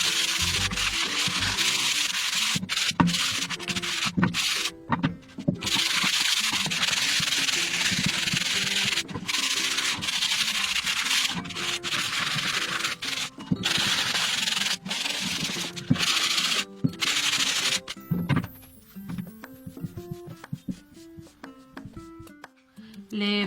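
Wood sanded with sandpaper along the grain for a homemade flower press makes a steady, continuous rubbing scrape with short breaks between strokes. It runs loud and close, and its texture changes near the end.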